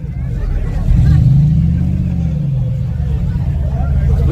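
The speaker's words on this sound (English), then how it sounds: "Got this Turbo Tahoe versus this on the motor Yukon." Turbo Tahoe engine revving up loudly near a rival Yukon at a street race, a deep rising drone that swells then holds, with crowd chatter underneath.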